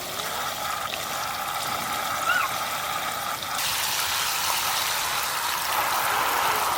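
Tap water runs steadily while fish are washed, a continuous close hiss of flowing water with slight shifts in intensity and no talk.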